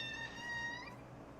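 A house cat meows in a drawn-out, complaining way, a single fairly clear high cry that rises and falls over about a second against a quiet indoor room.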